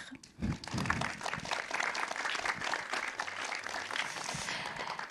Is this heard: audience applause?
yes